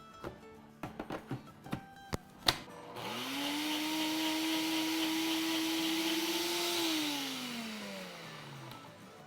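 A kitchen blender or chopper whips a sandwich cake filling mixture. A few sharp clicks come first, then a steady, close motor whine that holds its pitch for several seconds before winding down.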